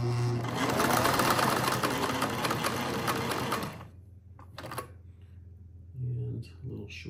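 A 1950s Singer 403A sewing machine stitches with a steady, rapid mechanical whir for several seconds, then stops, followed by quieter clicks and a short second run, with a voice talking over it.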